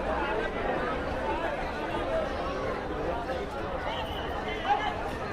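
A dense crowd of passengers packs the Hirakud Express train, producing a steady, continuous babble of overlapping voices and shuffling with no single speaker standing out.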